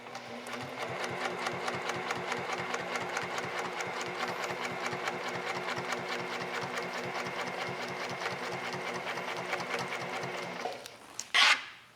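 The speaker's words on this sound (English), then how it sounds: "let me stitch one more of these lines" A sewing machine runs steadily for free-motion stitching of lines on a quilt, a continuous even whir lasting about eleven seconds before stopping with a brief clatter at the end.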